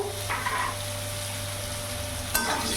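Potato pieces seasoned with salt and turmeric sizzle in oil in a pan, a steady close crackle with a brief stirring scrape near the end and no talking.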